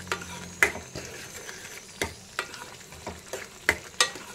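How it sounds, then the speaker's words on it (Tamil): White pumpkin halwa stirred in ghee and oil in a pan, with a spoon scraping and clicking every half second or so over a soft, low sizzle close by. "நல்லா எண்ணெய் நெய்யும் அந்த எண்ணெயும் மேலே தெளிஞ்சு வர மட்டும் நம்ம கிண்டிக்கிட்டே இருக்கணும்"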